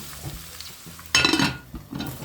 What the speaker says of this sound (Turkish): Kıymamızı 15 dakika boyunca kavurduktan sonra kapya biber ve yeşil biberimizi de içerisine atıp 10 dakika daha kavuralım.